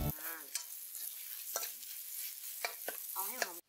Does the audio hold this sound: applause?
no